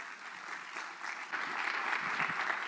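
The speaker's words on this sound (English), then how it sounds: "let's give a round of applause for all of our magnet programs" Audience applause at a school magnet program meeting, a steady wash of many hands clapping that swells louder partway through and carries on without a break.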